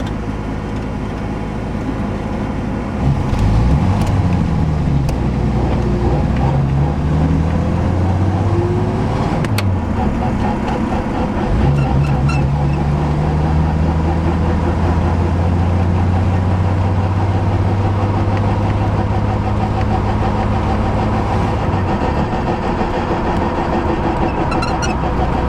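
A 1963 Rambler American runs steadily through winter, its engine a constant close drone with gear-shift-like pitch changes and slow rises and falls in tone, no voices.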